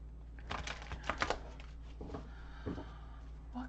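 Tarot cards being shuffled by hand in a few quick bursts of riffling and flicking, close and moderately loud, with pauses between.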